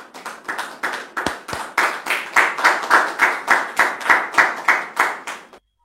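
A television talk-show studio audience welcomes a guest with loud, rhythmic applause, a steady beat of about a dozen strong clap waves in unison that stops abruptly.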